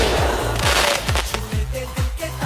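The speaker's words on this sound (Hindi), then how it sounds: "जलाओ पटाखे।" Firecrackers set off in a rapid string of sharp, loud bangs crackling close by, with no voices over them.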